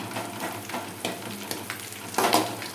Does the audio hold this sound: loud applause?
no